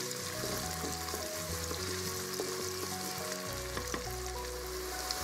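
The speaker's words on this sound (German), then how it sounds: "Etwas Öl wird angegossen, Zwiebeln werden zugegeben und angebraten." Onions sauté in a little oil inside a Krups Cook4Me pot, a soft, even crackling sizzle with a few faint stirring clicks, quiet but steady throughout.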